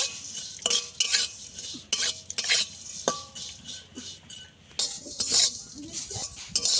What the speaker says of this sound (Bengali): অনবরত নেড়ে ছেড়ে এটাকেও আমি একটু লাল লাল করে ভেজে নেব।